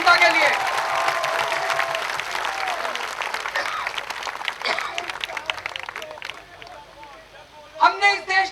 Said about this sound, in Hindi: जोरदार तालियां चांदनी चौक की जनता के लिए।